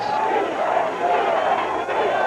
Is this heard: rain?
no